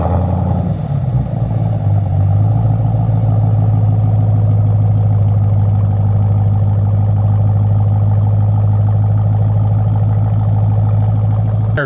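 A Jeep Trackhawk engine starts and settles into a loud, steady idle close by, a deep continuous rumble with a faint mechanical clatter and no talking.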